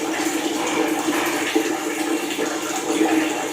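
Water pours over a clothed child at home, a steady splashing rush that continues throughout with a few louder splashes, fairly close.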